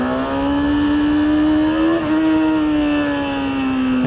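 Superbike engine held at high revs while the rider slips the clutch for a wheelie, a loud continuous drone that climbs gradually, dips briefly midway and then keeps rising, close to the microphone.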